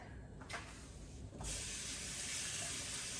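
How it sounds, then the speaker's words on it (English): A bamboo matcha whisk is rinsed under a kitchen tap: a brief splash, then water running steadily and fairly loud at close range, with no talking. "I just rinse it with water."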